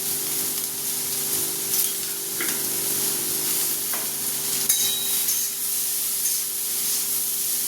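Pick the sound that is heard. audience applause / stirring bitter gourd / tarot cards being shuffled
stirring bitter gourd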